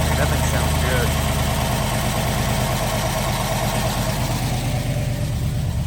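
A Chevrolet TrailBlazer SS with full exhaust and both mufflers idles after its first startup on a new cam, a steady, loud, lumpy rumble that continues unbroken and close by.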